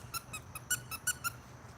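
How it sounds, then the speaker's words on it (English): A squeaky Mr. Krabs chew toy with knotted limbs is squeezed about seven times in a quick, uneven rhythm, giving sharp, high, close squeaks with faint background noise. "It's a chew toy Mr. Krabs, where every appendage is like a knotted chew thing."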